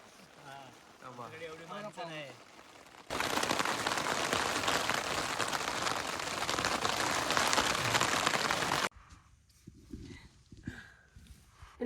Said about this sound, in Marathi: बघू शकता पाऊस आलेलाय